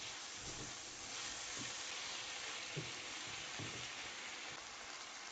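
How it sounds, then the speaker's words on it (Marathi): Okra fries in a pan with softened tomato, making a soft, even sizzle and hiss close by, with a few light stirring knocks and no voices. "आता ह्यात आपण भेंडी घालतोय. भेंडी छान परतून घ्यायची आहे."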